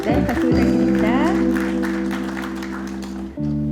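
A meeting hall audience claps throughout a 2024 Daegu-Gyeongbuk airport committee plenary session, under a loud, steady sustained musical tone that briefly dips near the end.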